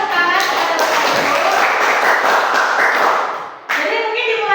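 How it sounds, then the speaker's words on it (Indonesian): A room of teachers at a training session claps their hands, a loud, dense burst of applause that runs steadily, dips briefly, and then resumes. "Terima kasih sebelumnya tepuk tangan kepada Bapak Ibu."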